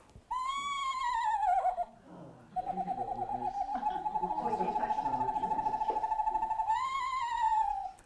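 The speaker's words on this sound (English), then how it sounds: "this is another noise that an Eastern Screech owl makes" An Eastern Screech owl calls close by with a long, high, quavering whinny-like trill that holds steady for several seconds, rising and falling at the start and the end. No one speaks.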